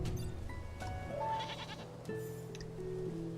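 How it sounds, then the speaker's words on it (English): A goat in the video game Infinity Nikki bleats in a few short, wavering calls, close and fairly clear over faint game background sounds. "Oh, excuse me, goat."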